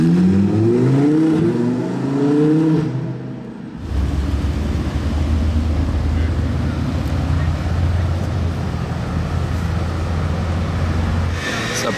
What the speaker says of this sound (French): Il y a énormément de belles voitures qui passent toutes les deux secondes.